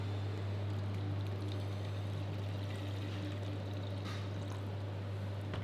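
Water, 500 grams, poured into a pan to make choux pastry, a steady continuous pour with a splashy stream running throughout under a constant low hum.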